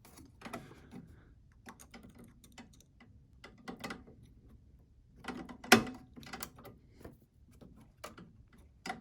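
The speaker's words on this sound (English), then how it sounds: "using a 2mm Allen wrench, we're going to be loosening up 2 bolts right over here on this gear" A 2mm Allen wrench loosens two bolts on a gear inside a Zebra ZT400 series printer, giving faint scattered metallic clicks and ticks with one sharper tap, close and quiet without talk.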